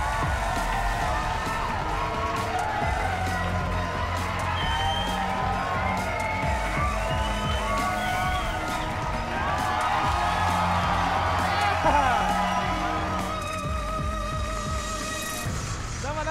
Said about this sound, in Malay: Tepukan untuk Syukri dan Marlina.